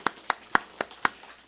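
A church congregation at a Sunday service claps in slow, evenly spaced single claps, five or six crisp close strikes over a quiet background.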